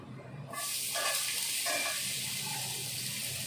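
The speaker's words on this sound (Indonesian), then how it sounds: "Saya akan goreng ini dulu hodongku ya." A hotdog dropped into a hot pan starts a sudden, bright sizzle that keeps going as a close, steady frying hiss with a few soft clinks of stirring.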